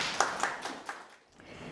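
Audience clapping to welcome a speaker at a social service investment exchange event, a handful of distinct claps at a slow pace that thin out and fade after about a second.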